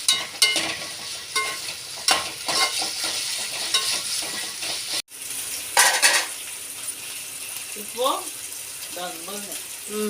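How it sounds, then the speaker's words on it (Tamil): Green chillies and curry leaves sautéing in a pan for white kurma, a steady sizzle with spoon scraping and clinks against the pan, with a brief pause midway. "இதாக கூட கொஞ்சம் கருவேப்பிலை இதையும் போட்டு நல்லா வதக்கிக்கலாம்"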